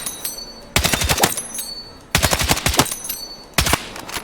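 Weapon fire from the Battlefield 6 video game: three bursts of rapid automatic shots, each lasting about half a second to a second, loud and close, separated by short pauses.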